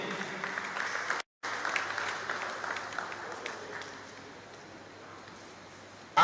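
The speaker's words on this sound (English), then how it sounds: "let's give him a round of applause once again." Renewed round of clapping from delegates at a Pest Control Association of Nigeria panel session, a sustained crowd applause with a brief cut partway, gradually fading down in the last seconds.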